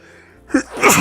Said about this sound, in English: that sneeze came on quick